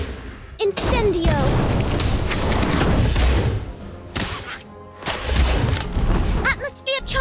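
An Incendio fire spell erupts in a Harry Potter video game, a loud whooshing roar of flame with booming bursts that swells, dips briefly, then flares again before cutting off.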